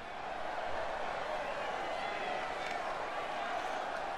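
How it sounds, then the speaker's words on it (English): Excited crowd at a basketball event, a steady, dense roar of cheering and voices that holds at a constant level throughout without breaks. "Crowd's pretty excited to see him."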